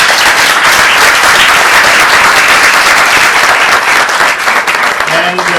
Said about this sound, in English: You deserve a bigger round of applause.